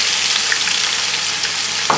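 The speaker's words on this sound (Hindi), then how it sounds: "इसे आपने यहाँ पर फ्राई करना है जब तक एक खूबसूरत सा सुनहरा कलर आ जाए" Onions fry in hot oil with spices over a high flame, a steady, close crackling sizzle with no talk.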